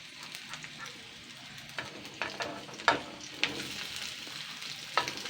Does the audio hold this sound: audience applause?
no